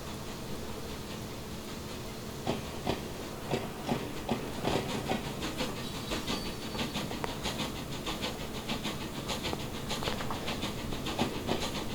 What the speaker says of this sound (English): We're playing with a Canadian locomotive on, I believe, a British themed route